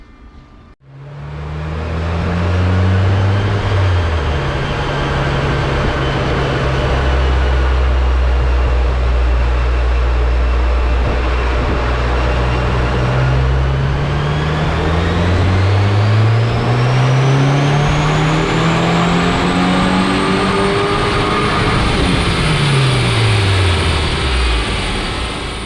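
A 2023 VB Subaru WRX engine with an AEM drop-in filter in the stock intake box and the carbon trap removed revs repeatedly. Its loud, close engine tone climbs and falls through several pulls, with no talking.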